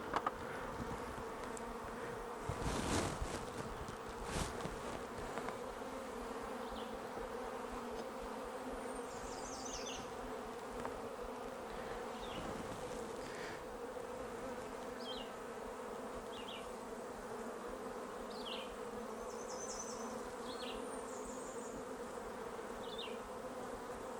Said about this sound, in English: Feels like bees are getting a little bit wound up here.